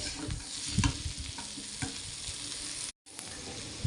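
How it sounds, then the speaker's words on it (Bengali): Potatoes frying in a pan, reddening in hot oil, with a steady close sizzle broken by soft stirring scrapes and one brief drop to silence. "এটা ভালো করে লাল লাল করে আলুগুলো ভেজে নেই"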